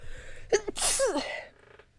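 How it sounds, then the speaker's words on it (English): A single sharp sneeze, close and abrupt, with a quick intake of breath before it and quiet afterward. "I sneezed."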